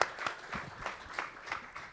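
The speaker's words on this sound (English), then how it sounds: "Please, clap for yourself." A conference audience applauds, scattered claps spread irregularly through a short faint burst, thin and distant.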